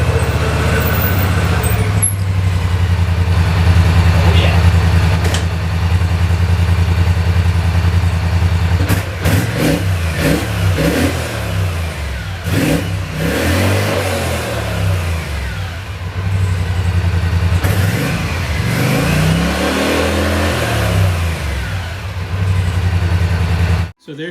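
A 2013 Polaris Sportsman XP 850 ATV engine runs close by, idling and then revving repeatedly in rising and falling surges, with a voice speaking at times over the engine.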